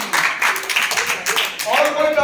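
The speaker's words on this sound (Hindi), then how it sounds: "ताली इनके लिए भी." Students in a classroom clap for a classmate, a short burst of steady applause with a voice speaking over it near the end.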